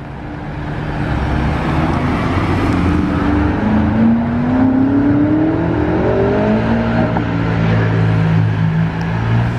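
Blue Ferrari 812 GTS passing on a road with traffic around, its engine note rising and sliding in pitch as it goes by, loud and fairly close over a steady roadway rumble.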